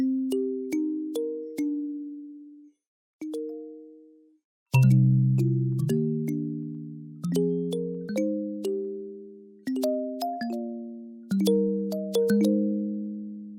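Plucky, bell-like synthesized kalimba tones from an Ableton stock instrument preset in a bouncy melodic pattern, each note with a sharp attack and quick decay, clear and close with short pauses.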